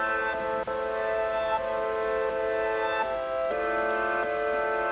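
A reversed studio piano patch from Omnisphere plays a chord progression in a trap beat. Sustained chords swell in, with soft percussive ticks recurring in a loose rhythm, close and moderately loud, with no talk.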